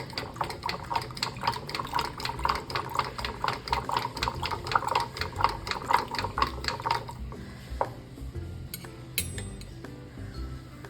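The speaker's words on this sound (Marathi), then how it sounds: "रवीने थोडंसं 5 मिनटं घुसळायचं चांगलं." A wooden ravi churner swirls milk in a pot for homemade curd, making fast, even rhythmic swishing strokes for about seven seconds, then stopping, followed by a few light clinks.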